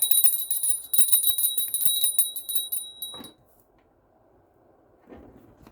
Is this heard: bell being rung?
yes